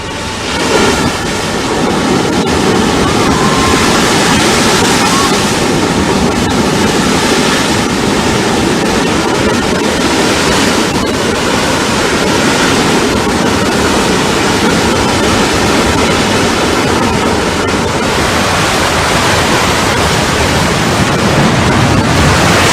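Godavari River water pours from the delivery canal outlet of the Kaleshwaram lift irrigation project in a loud, constant roaring torrent that holds steady and close for over twenty seconds, with no voices.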